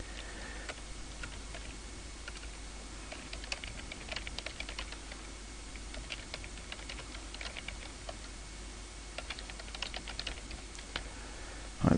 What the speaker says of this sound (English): just going to prove that I can't actually type this